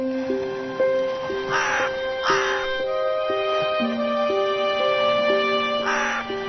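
A cartoon crow caws three times in short, harsh bursts over a simple stepped musical tune that runs throughout the Kazakh animated scene.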